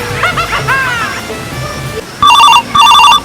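A voice speaks briefly, then a telephone ringtone sounds in two loud, trilling bursts, close and clear.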